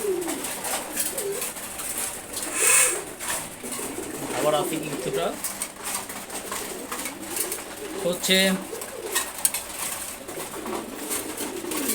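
Pigeons at morning feeding coo softly and intermittently amid scattered chirps and rustling, while someone speaks nearby.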